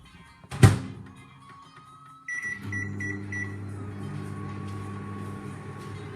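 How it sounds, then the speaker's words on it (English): A household microwave oven runs in a kitchen after a loud thunk of the door closing, a few short beeps, then a steady low hum with a faint whir that continues to the end. "Sorry, my daughter is using the microwave."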